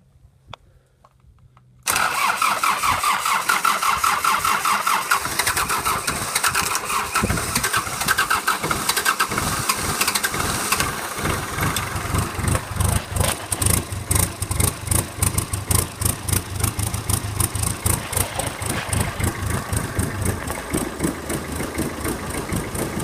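After a moment of quiet, the diesel engine of an old Farmall M tractor cranks and catches abruptly, then settles into a loud, rough, steady idle with a knocking chug.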